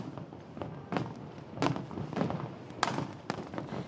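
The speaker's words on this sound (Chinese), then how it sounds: "烟火伫空中是水甲" Fireworks burst over the newly opened Pelješac Bridge in Croatia during its opening celebration, with about five distant, separate booms and thuds spaced irregularly apart.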